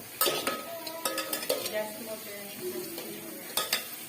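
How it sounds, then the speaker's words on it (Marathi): Onion is stirred and roasted with a little salt in a pan over full heat, making a spatula scrape and clatter against metal in uneven strokes over a light sizzle, close and moderately loud. "म्हणजे कांदा चांगला भाजून येतो। हलवत राहायचं आपल्याला।"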